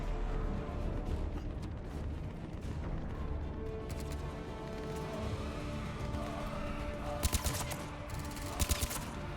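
Gunfire with incendiary ammunition in the video game Mass Effect 3, rapid rattling bursts over a dense rumbling battle backdrop, with a few sharper cracks standing out near the end.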